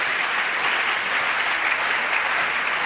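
A church congregation applauds and cheers in a steady, dense wash of clapping that fills the room throughout.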